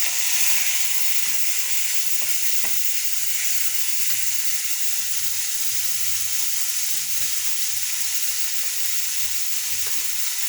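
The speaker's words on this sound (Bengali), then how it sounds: "পেঁয়াজটা আমার ফ্রাই হয়ে এসছে এখন আমি এখানে মশলা দিব আদা রসুন পেঁয়াজ বাটা দিয়ে দিলাম" Chopped onions fry in hot oil with freshly added ginger, garlic and onion paste for a thin fish and potato curry, giving a steady, close, loud sizzling hiss with no talking.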